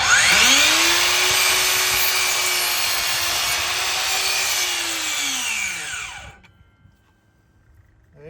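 A DeWalt DCS714B cordless miter saw cuts a 4-inch board at a 45-degree angle. The motor whines up, the blade bites the wood with a loud, steady buzzing rasp for about six seconds, then spins down to quiet.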